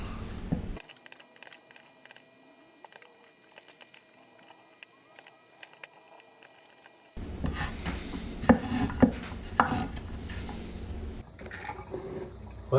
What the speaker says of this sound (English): Let's give our potatoes a scrub with a vegetable brush.